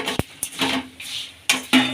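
Dry grated coconut is fried and stirred in a pan, a metal spatula scraping and clinking against the pan in short, uneven strokes close by.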